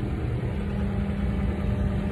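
A farm tractor idles at a steady low rumble, a constant even drone with no change in pitch, heard moderately close with no voices.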